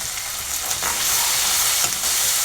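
Ginger garlic paste and turmeric fry in a pan for a tomato egg curry, a loud, steady close sizzle with faint stirring scrapes throughout.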